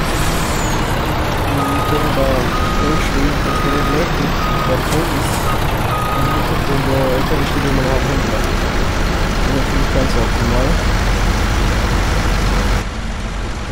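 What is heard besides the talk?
Tatra truck engine in video game Farming Simulator 19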